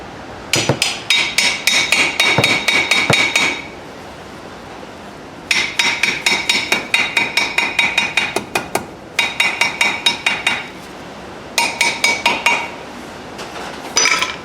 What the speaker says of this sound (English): And now tap the pads back in closer to the rotor.